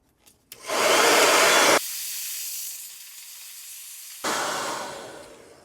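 A hair dryer blows hot air onto a pool scrubber's tail attachment. Its steady, loud whooshing hiss runs in two bursts with a quieter stretch between them, and no one speaks.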